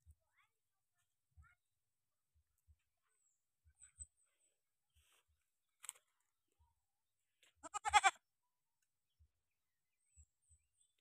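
A single short, quavering bleat from a young goat rings out amid near silence, with faint scattered knocks and taps before and after.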